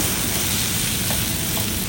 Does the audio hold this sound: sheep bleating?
no